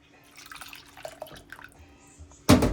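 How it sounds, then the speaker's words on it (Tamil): Tamarind water poured into a pan for a masala fish curry: faint trickles and drips, then a sudden loud, close, sustained splashing pour near the end. "வேணுங்கிற அளவுக்கு புளி கரைச்சல் போட்டுக்கோங்க"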